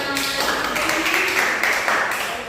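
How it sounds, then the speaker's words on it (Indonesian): A classroom of third-grade students applauding together during a lesson, a dense, steady patter of many hands clapping close by for the whole moment. "Oke, berikan tepuk tangan."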